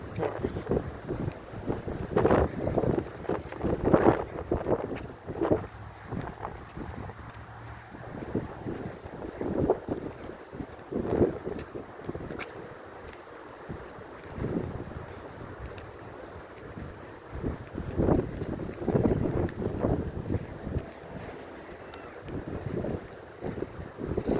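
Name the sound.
wind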